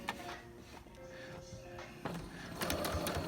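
Sewing machine stitching a fabric face mask strap, with a close, fairly quiet mechanical whir and clatter running throughout and brief handling noises near the end.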